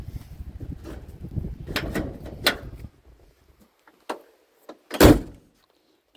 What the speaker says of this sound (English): Doors open and shut good.